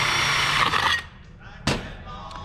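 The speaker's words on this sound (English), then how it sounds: "you've gotta let the drill do the work, but you've gotta give it enough pressure so that it can actually cut and bite through that sheet metal" A drill bit bores through sheet metal for a metal rose project, giving a loud, harsh grinding whine for about a second. It then drops to a quieter hum, broken by one sharp, brief burst.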